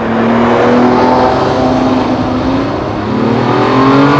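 High-performance sports car engine with a 202 mph top speed, revving hard above 5,000 RPM and accelerating, a loud continuous roar with rising harmonics throughout.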